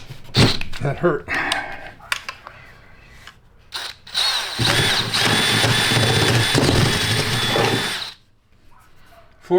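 A power drill with a 3/4 inch bit bores through soft aluminum on a box truck, first in short bursts between speech, then a sustained loud, steady grinding whine lasting several seconds before stopping.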